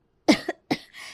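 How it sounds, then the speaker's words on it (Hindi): A cartoon woman coughs twice in quick succession, short, close and distinct bursts followed by a softer breathy trail. "अरे बहू कितना खांस रही हो तुम"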